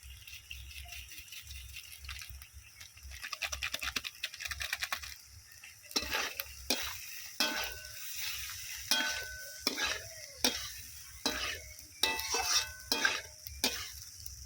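Cheese pasta with pasta masala is stirred and cooked in a pan: a gentle sizzle under repeated rattling scrapes and knocks of a spoon against the pan, growing more rhythmic and pronounced midway.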